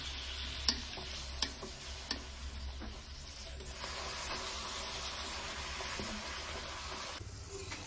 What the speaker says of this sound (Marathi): मस्त अशा पुऱ्या तळून घेऊया।